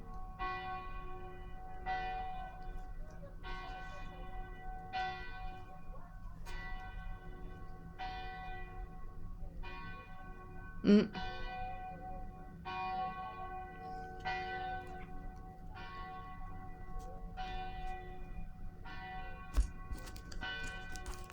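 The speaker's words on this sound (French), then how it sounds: "Je vais explorer ici pendant que les cloches sonnent." Church bells ring in a slow, steady peal, each stroke leaving a long ringing tail, with one sharp knock partway through.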